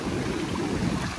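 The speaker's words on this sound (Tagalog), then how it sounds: "lakas ng agos ng tubig" Strong river current rushing at a river crossing, a steady, loud broadband wash with low rumble, continuous and close, with wind buffeting the microphone and no voices.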